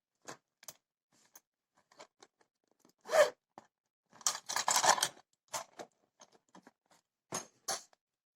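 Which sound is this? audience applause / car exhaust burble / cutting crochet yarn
cutting crochet yarn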